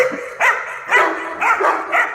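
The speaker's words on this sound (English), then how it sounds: "What you heard was a smaller dog" Smaller dog barking from a played recording, four quick higher-pitched yappy barks in steady succession, close and fairly loud with no talking.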